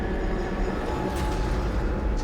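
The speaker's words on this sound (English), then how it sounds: "Is there a tram coming?" A tram approaching in the video game Dead Space Remake, a steady low rumble and mechanical hum that swells slightly, with a faint hiss rising near the end, continuous throughout.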